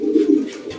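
A pigeon at a racing-pigeon loft coos close by, giving a low, throaty rolling call that swells twice in a short phrase.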